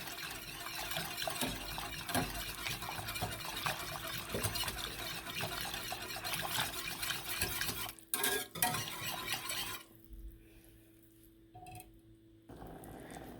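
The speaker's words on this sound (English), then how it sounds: "I just stirred it and made such an amazing noise" Steady scraping and clinking of a spoon stirring thickening gravy in a pot, continuous and close, with a brief louder scrape and a quieter stretch near the end.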